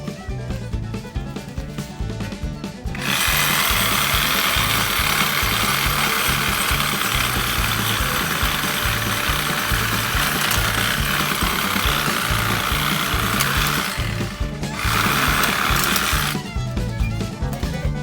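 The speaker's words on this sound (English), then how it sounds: "So I'm going to try to cut it with my Sawzall." A Sawzall reciprocating saw cuts through a tree root outdoors, giving a loud, steady buzzing rasp with a rapid stroke rhythm that runs almost continuously, with short pauses near the start and end.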